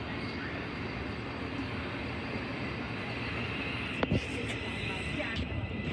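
Thameslink train at Gatwick Airport station, a steady low rumble and rolling noise filling the platform with a brief clank partway through.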